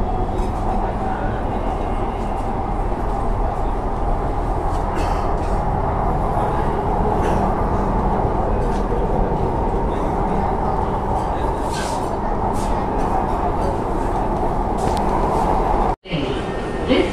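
A Pune metro train running between stations, a steady loud rumble and rolling hum from inside the carriage that holds throughout, cutting out briefly near the end before resuming.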